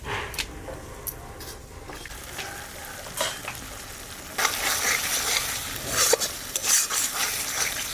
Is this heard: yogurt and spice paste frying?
yes